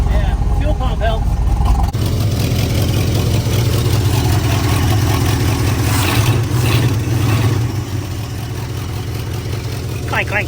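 A 1971 Ford F100 race truck with a turbocharged V8 runs loud and rough close by, idling with a heavy throbbing rumble after starting, and a voice speaks briefly over it.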